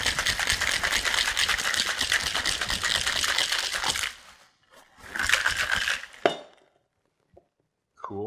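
Ice rattles hard inside a cocktail shaker as a mojito is shaken, a loud continuous churning clatter for about four seconds, then a second shorter burst followed by a few clinks.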